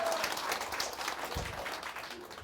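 Lecture hall audience at a real estate tax seminar claps and cheers as the lecturer arrives, a short lively burst of applause with a few voices underneath.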